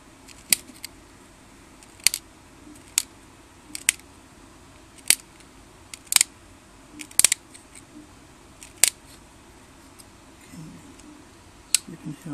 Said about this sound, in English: let's cut this excess bit off